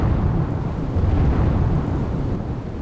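Torrential rain pours over Jamraval in Kalyanpur taluka, Gujarat, a thick continuous wash of water noise underlaid by deep rolling thunder, loud and unbroken without any speech.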